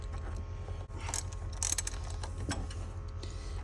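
A 10mm ratchet loosens bolts on the throttle body of a GMC 6.0L engine, giving close, rapid pawl clicking in short bursts over a low steady hum, with no voices.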